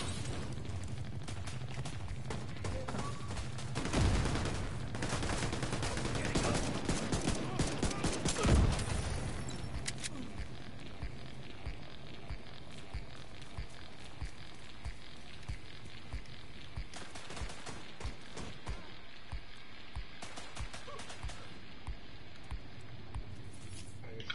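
Heavy automatic gunfire and explosions in the video game The Division 2, a dense, loud fusillade of overlapping bursts that surges around the middle before thinning into steadier crackling shots, with occasional voices talking over it.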